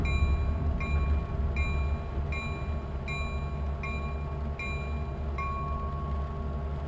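A MARC commuter train arrives at Philadelphia during a tropical storm: a steady, loud low rumble runs throughout, with a faint high tone repeating about every three-quarters of a second.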